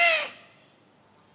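A pet bird gives a single loud, bright call at the start, then tapers into faint room tone, alone with no talking.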